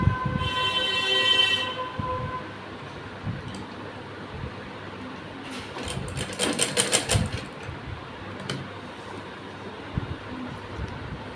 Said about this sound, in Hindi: हम एक पैर की सिलाई लगाएंगे।